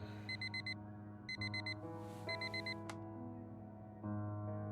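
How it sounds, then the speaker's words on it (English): An alarm clock in the game Fragments of Him rings in three bursts of quick, bright repeated beeps, set over soft sustained background music. "The same alarm tone that Harry can sleep through"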